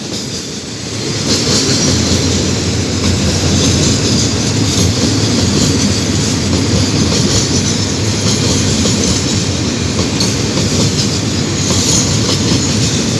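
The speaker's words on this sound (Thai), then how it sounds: "ไปแล้วครับสำหรับขบวนรถสินค้าน้ำมันดิบขบวนที่ 634" Crude oil freight train No. 634, hauled by Alsthom locomotive no. 4133 from Bueng Phra toward the Bangchak refinery, passes close at night with a loud, continuous roar of wheels and rattling wagons.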